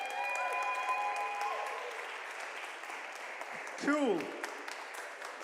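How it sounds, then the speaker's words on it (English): Audience applause at the UK Barista Championship 2023 regional heat in London: steady, dense clapping fills the room throughout, with a brief spoken word near the end. "Round of applause again, one more time."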